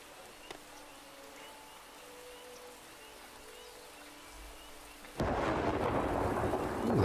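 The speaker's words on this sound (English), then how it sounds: "Ooh, that one was a loud crack of thunder." A loud thunder crack in the video game Farthest Frontier bursts in abruptly after a quiet stretch of faint ambient game sound, then rolls on as a broad, sustained rumble.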